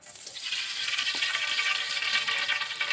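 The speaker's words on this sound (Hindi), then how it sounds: "हम इसके अंदर घी डालना है" Ghee poured into a pot while cooking Karachi-style student biryani, giving a steady, bright hissing sizzle that holds level for several seconds with no talking.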